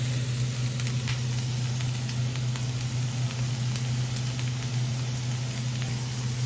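Onions and curry leaves sizzle steadily in a pan, a continuous close frying hiss with a low hum underneath and no talking.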